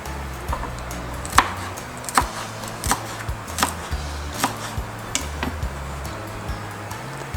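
Garlic pounded with cilantro stems in a mortar for ginataang manok, a steady series of sharp, close thuds recurring about every half second to second, alone without talk.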